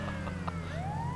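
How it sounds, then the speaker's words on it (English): A GTA 5 Online ambulance siren wails briefly over a droning engine hum, its rising electronic tone sweeping upward, faint and slightly distant. "Why is there an ambulance here?"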